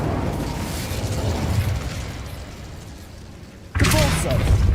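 The Incendio fire spell is cast in the video game Hogwarts Legacy, and a sudden loud burst of flame erupts near the end. Before it comes a steady, busy bed of game ambience.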